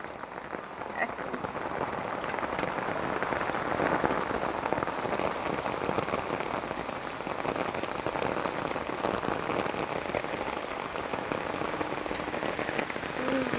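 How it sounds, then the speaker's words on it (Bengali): Steady midday rain pours onto a rooftop in Dhaka, a dense, even patter of drops close by throughout. "কত সুন্দর বৃষ্টি হচ্ছে"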